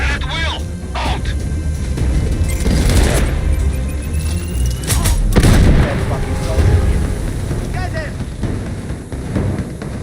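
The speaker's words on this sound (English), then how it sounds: "the weapon sound effects are excellent, just like in the previous game. The sniper rifles in particular sound powerful" Sniper rifle fire in the video game Sniper Ghost Warrior Contracts 2, a few heavy booming shots spread through a dense combat soundscape with wind and rumble, voices talking over it.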